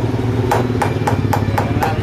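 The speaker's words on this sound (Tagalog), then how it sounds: "Talagang pinupukpok muna bago po mabuo kibali ang ganito pong uri ng trabaho po guys." Sheet metal being hammered by hand for handmade metal craft work, sharp ringing strikes in a steady rhythm of about four per second, close and loud over a low background hum.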